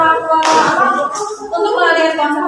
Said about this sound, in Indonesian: Kita lakukan tepuk semangat, ya.